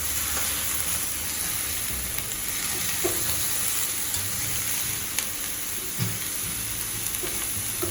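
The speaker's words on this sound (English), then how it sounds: "Then add in your pumpkin. That looks lovely. Then you just stir it." Pumpkin pieces sizzle and fry in a pan for an Indian-style vegan pumpkin curry, with a steady broadband hiss and occasional soft scrapes and knocks of a utensil stirring, continuous and close throughout.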